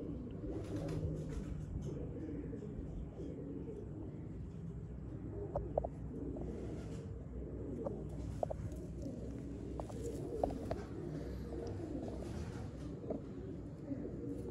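Pigeons coo softly and steadily in a loft, with some faint wing flaps and scattered chirps over low background noise. The birds sound fairly distant and quiet.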